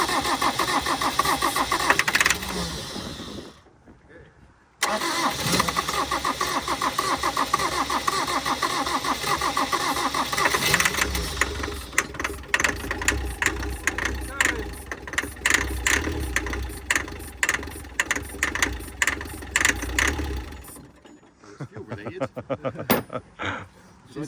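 The 300Tdi diesel engine of an abandoned Land Rover Defender 110 cranks, cuts out briefly, then catches and runs with a steady rumbling idle, with voices talking over the noise near the end.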